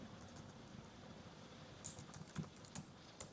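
Quiet, close keystrokes on a computer keyboard during work in an Excel spreadsheet, a few scattered clicks with brief pauses between them, in an otherwise still room.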